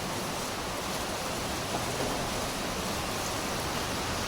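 Monsoon rain falling steadily at night in Siliguri, a constant even hiss of rainfall with no other distinct sounds.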